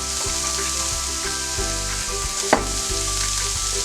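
Chopped onion frying in oil for honey glazed chicken, a continuous crackling sizzle with light scraping stirs and one sharp clack midway, close and without talk.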